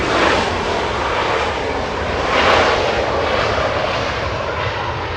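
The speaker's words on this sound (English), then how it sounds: "Delta Airlines 2698 flying to Nashville, Tennessee, that one." A Delta Airlines jet airliner at LAX airport roars loudly and steadily as it passes, a broad sustained engine rumble swelling midway with no talking over it.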